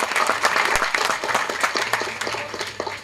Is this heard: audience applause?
yes